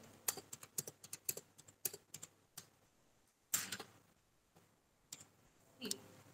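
Computer keyboard keys clack in quick irregular bursts during spreadsheet data entry, with pauses between groups and one louder thump midway. The typing is close but fairly quiet against a low background hum.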